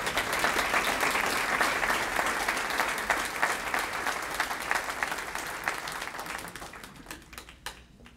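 Sustained audience applause at a school education foundation legacy honor luncheon, a dense steady wash of many hands clapping for several seconds before gradually thinning out and fading near the end.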